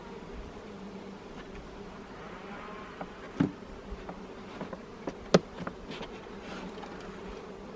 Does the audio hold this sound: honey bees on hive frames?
yes